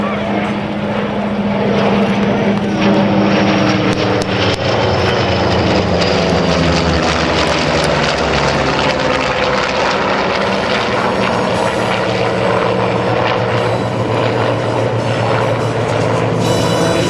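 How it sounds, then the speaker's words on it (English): Navy legacy flight of radial-engine propeller planes flying with jets at the Thunder Over Michigan air show, a loud, steady, continuous roar of mixed engines with shifting drone tones throughout. "Listen to the sound. Round engines and jets all together."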